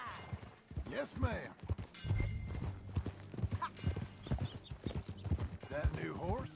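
Horse hooves clip-clop steadily in Red Dead Redemption 2 as riders travel, the rhythmic clopping running under men's and a woman's conversation throughout.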